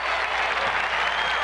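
A 1978 NASL soccer crowd at the Caribous' Denver stadium, heard as a loud, continuous roar of cheering and applause throughout, close and dense.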